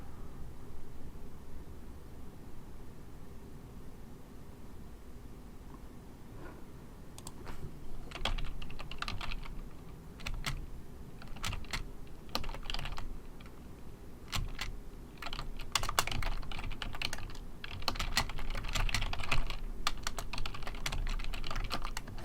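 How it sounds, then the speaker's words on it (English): Computer keyboard keys clatter in irregular bursts over a soft steady hiss, with quieter stretches between flurries of close, crisp clicks; no voices. "Forgive the typing."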